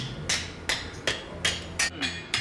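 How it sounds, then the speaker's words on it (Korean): Hammer blows ring out in a decades-old blacksmith forge, five sharp metallic strikes at a slow, fairly even rhythm against a quiet, low workshop background. "그 긴 세월 망치질 소리가 멈춘 적이 없다지요?"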